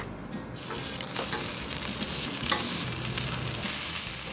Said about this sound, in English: While our wings are cooking and while our avocado oil is heating up